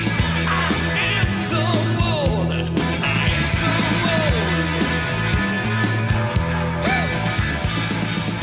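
A rock recording with full band, driving drums and guitars, and a singer's wailing vocal lines sliding in and out over the steady beat.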